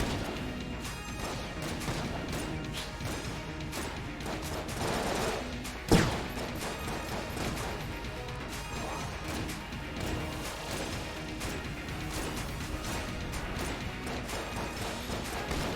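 Rapid weapon fire in the video game Enter the Gungeon, a dense continuous clatter of shots and mechanical clicks with one sharp loud crash partway through, steady and busy throughout without speech.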